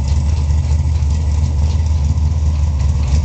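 A 1956 Chevrolet rat rod pickup truck idles steadily up close, its deep low rumble loud and even throughout with no talking.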